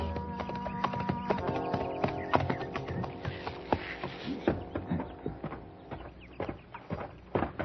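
Horse hooves clip-clop at a walk as a rider arrives at a ranch house near sundown, a steady series of close, distinct hoof strikes over a faint background with no talking.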